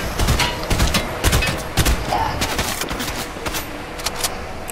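Gunfire in Fortnite: rapid, dense bursts of shots crackling loudly and continuously, tapering slightly toward the end, with no speech.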